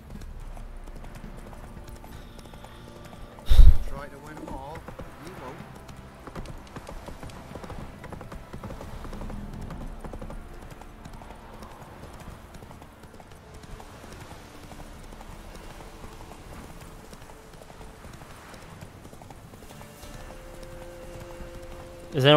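Steady horse hooves clip-clopping in The Witcher 3, a continuous even rhythm of hoofbeats at moderate loudness, with one sharp thump early on and a quiet game soundscape underneath.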